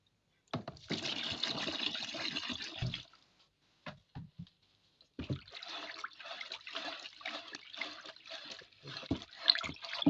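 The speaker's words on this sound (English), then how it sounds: "It's not clear, so I'll add alcohol." Alcohol poured into a cloudy homemade antiseptic mixture, giving a splashing, gurgling liquid stream in two bursts separated by a short pause and a few drips, close and fairly quiet.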